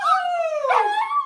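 One dog howls loud and close, a long wavering, whining tone that dips and bends midway before rising again, heard alone.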